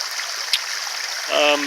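Water splashes steadily into a natural garden pond, a continuous close trickle and patter, with a brief voiced sound breaking in near the end.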